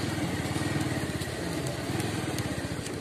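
A faulty motorcycle engine idles close by with a steady, throbbing putter that stays even throughout, no voices over it.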